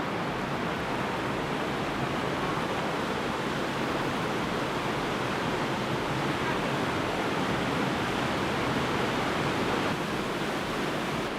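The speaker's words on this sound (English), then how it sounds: "I'm gonna get close to the waterfall" A waterfall in the Great Sand Dunes area roars as a steady, dense rush of water, loud and close, holding unbroken from start to finish with no talking.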